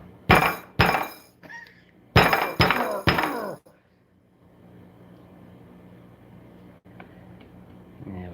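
A gear is hammered onto a chassis part of a Kyosho Fazer Mk2 rally RC car, giving five sharp metallic knocks in two bursts, two and then three. A faint low hum follows.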